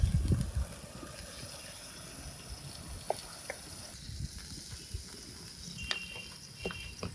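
Chicken tandoori pieces fry in a covered pan on a cooking stove with a steady, soft sizzle and hiss. A few small pops and clinks break in, and a brief louder rustle opens the sound.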